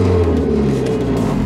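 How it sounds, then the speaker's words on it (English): A turbocharged Foxbody race car powered by a 4-cylinder Tacoma engine gives off gearbox noise: a loud, sustained mechanical drone with layered low whine, steady and close for the full stretch. "Gearbox noise."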